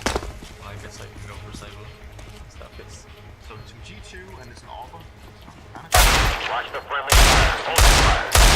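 Desert Eagle pistol fire in the video game CS:GO, set in a competitive match: after quieter in-game movement and clicks, several loud, heavy shots crack out in quick succession near the end, with a player talking throughout.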